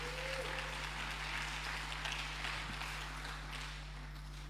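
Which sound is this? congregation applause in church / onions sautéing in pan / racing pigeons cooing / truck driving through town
congregation applause in church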